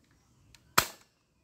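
A single sharp crack as a toy airsoft pistol fires, preceded by a faint click, close and brief with nothing else around it.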